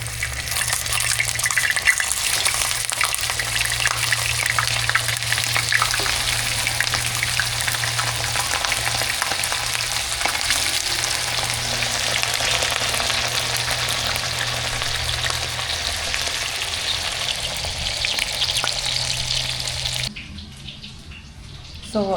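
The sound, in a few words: burger patty frying in a pan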